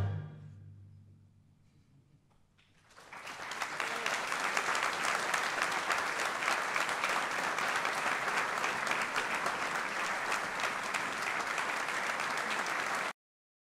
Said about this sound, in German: Ja, das ist doch ein Applaus.